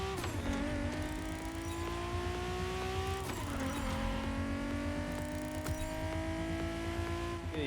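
A Toyota Supra in The Crew Motorfest, engine revving hard through gear changes. The pitch climbs, drops at each shift, then climbs again over steady driving noise, loud and close.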